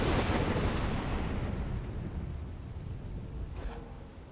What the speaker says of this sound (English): It crushes them with a nice explosion